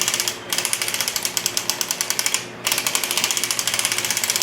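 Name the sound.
Erlbacher Gearhart knitting machine being cranked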